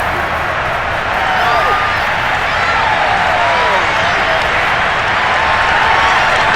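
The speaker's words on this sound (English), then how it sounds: "this crowd urging on their defense. They're up and making noise." Simulated stadium crowd in Madden NFL 22 during a 49ers versus Bears game, a steady, loud roar of cheering and applause that holds without a break for the whole stretch.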